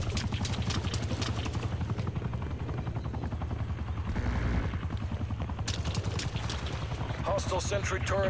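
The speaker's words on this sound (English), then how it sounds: "enemy attack helo above" An enemy attack helicopter in Call of Duty Black Ops Cold War, its loud continuous rotor thumping overhead mixed with bursts of gunfire and battle noise.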